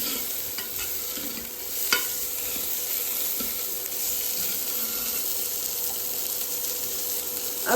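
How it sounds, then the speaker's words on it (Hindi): Vegetables stir-fried in a pan with very little oil for an Indian dish, a steady low sizzle under light scraping stirs and occasional utensil knocks, close and continuous. "थोड़ा सा इसमें भून लेते हैं। ऑयल तो मैंने बहुत ही कम डाला हुआ है, लेकिन फिर भी ये भुन जाएगा इसमें।"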